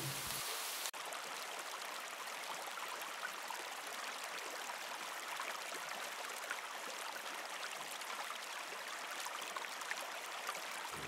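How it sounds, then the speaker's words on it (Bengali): Heavy rain falls by a river, forming an even, steady hiss of drops that carries on throughout at low level, with one sharp knock near the start. "খুব বৃষ্টি হচ্ছে"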